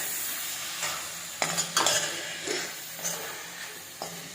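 Chopped tomatoes sauté in a hot pan for a country chicken varuval masala, a steady sizzle broken by several loud scraping stirs of a spoon against the metal, close and with no voices.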